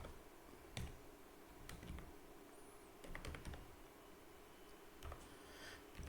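Fingers type on a computer keyboard in quiet, uneven bursts of soft clicks and taps, with a few louder keystrokes standing out and no talking.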